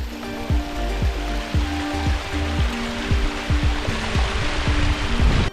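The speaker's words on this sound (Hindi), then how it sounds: "हम जिस रास्ते से ऊपर चढ़ रहे हैं उसी रास्ते से पानी भी नीचे आ रहा है।" Water runs down a stone mountain trail on the Kalsubai peak trek, a steady loud rushing wash with a broad splashing hiss throughout and no voices.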